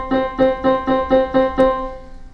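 Full-length and half-length plucked strings sound an octave apart in seven steady, evenly paced strikes, the blended tones ringing briefly after each pluck, close and unaccompanied.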